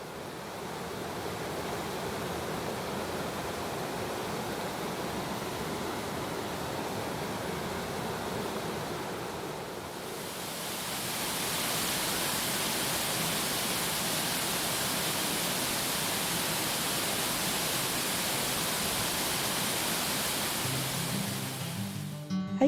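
Bridal Veil Falls in DuPont pours in a steady, unbroken roar of rushing water that swells brighter and fuller partway through.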